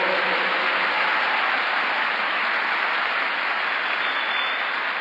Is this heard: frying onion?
no